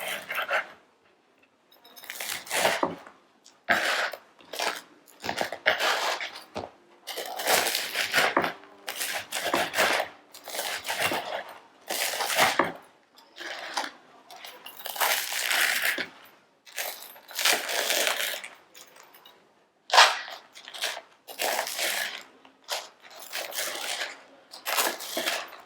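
Knife slicing through crusty toasted garlic bread for bruschetta, a quick series of crisp, crackling cuts in bursts, close and fairly quiet, with short pauses between strokes.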